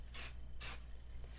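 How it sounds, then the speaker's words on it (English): Hairspray misted onto hair from an aerosol can in three short, close hissing bursts, steady and fairly quiet, with no voices. "spray my hairspray"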